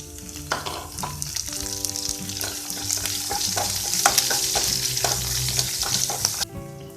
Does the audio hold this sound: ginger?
yes